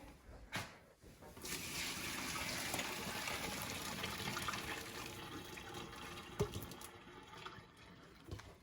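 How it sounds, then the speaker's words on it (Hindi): Hot water poured off boiled potatoes into a sink, a continuous gushing, splashing flow that rises after a brief clatter and runs steadily before tapering with a few knocks. "ध्यान से आप इसका पानी ड्रेन कर लें"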